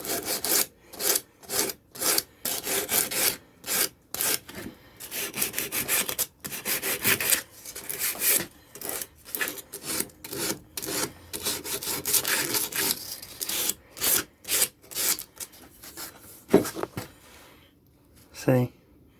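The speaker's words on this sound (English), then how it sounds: "those deep cuts that the sandpaper leaves behind will have to be polished down, sanded down to get optimal results." Sandpaper rubs back and forth on an aluminum fuel rail being polished, close rhythmic rasping strokes in quick bursts with short pauses, and a voice talking in between.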